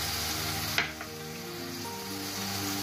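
Chopped tomatoes hit hot oil with frying onions in a pan, for a desi-style Italian tomato spaghetti, setting off a loud burst of sizzling that settles into a steady, close frying hiss with a stir or two.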